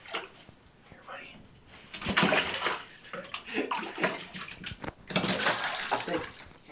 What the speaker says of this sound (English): We'll just start rinsing them